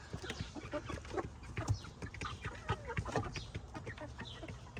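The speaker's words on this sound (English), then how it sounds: "Anybody know what exact chicken that is?" Backyard chickens cluck in short, irregular bursts at moderate distance, fairly quiet, with scattered scratching and outdoor ambience around them.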